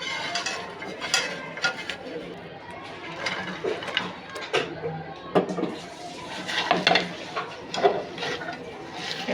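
Small fish being mixed by hand with chopped potatoes and chopped hog plum in a bowl for a fish chorchori, giving soft irregular squelching and scraping with occasional clinks, close and moderately loud, with no talking.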